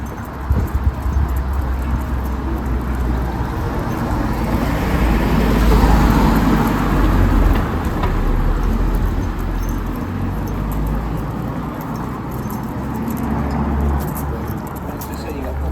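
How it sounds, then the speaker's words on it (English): Cars pass up and down a village high street in Anglesey with a steady roadway rumble that swells in the middle as a vehicle goes by close, while voices talk over the traffic noise throughout. "there's cars going up and down the high street"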